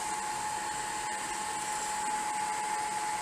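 A Eumig S 802D cine projector motor runs steadily, a constant close whirring drone with a fixed whine and no talking over it.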